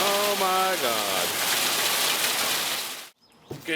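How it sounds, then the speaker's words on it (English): Rain pours steadily onto outdoor surfaces, a dense hiss that runs for about three seconds before stopping abruptly. Tonal voice-like sounds cut through early on, and a brief sound follows after the break. "So it rained, so I have to postpone"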